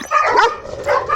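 A German Shepherd and a Dogo Argentino that are not getting along make a short, close burst of whiny barks and whimpers, loud and continuous for about a second.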